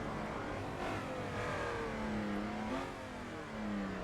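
BMW race car in a sim racing game at Norrisring, engine droning steadily close up and rising in pitch as it accelerates through gear changes, alone with no talk.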